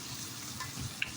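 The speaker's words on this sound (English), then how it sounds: "It's a stir fry." Stir fry of bell pepper and tomato sizzling in a pan, a steady close hiss of frying with one small pop near the end.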